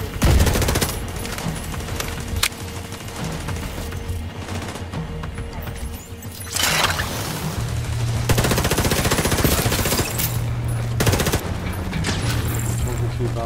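Gunfire in The Division 2 during a co-op Roosevelt Island stronghold fight: rapid, loud automatic bursts and dense volleys of shots nearly throughout, with game effects and people talking over it.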